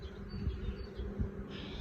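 Honey bees buzz around an opened hive box during an apiary visit, a faint, close, continuous hum with slight swells.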